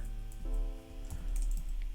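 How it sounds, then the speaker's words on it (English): Keys clatter on a computer keyboard in quick irregular bursts, close and clear, with a low steady hum beneath and no voices. "oops, I'm not typing very well here"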